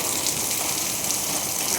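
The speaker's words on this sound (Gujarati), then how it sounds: "આખો દિવસ સરસ વરસાદ પડ્યો છે આજે" Steady rain falls through a whole rainy day at a home, producing a dense, even hiss and patter that stays continuous and moderately loud without any break.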